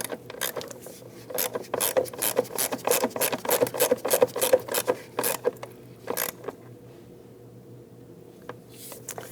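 A ratchet with extensions tightening a bolt on a 2009-2017 Volvo XC60 3.2L six-cylinder engine bay, a close rapid run of clicking pawl strokes that slows to a few final clicks and then stops.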